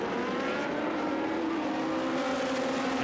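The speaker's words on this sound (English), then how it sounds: "28 of them with 3-litre Cosworth V8s. But a fantastic sight and sound." Historic racing cars with 3-litre Cosworth V8 engines circulate at Silverstone Classic, filling the air with a continuous dense engine roar that stays even and unbroken throughout.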